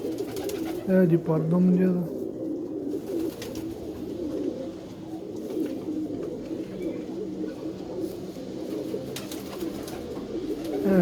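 Pigeons coo in low, throaty bursts nearby, with one clear coo early on and more murmuring under a man's speech.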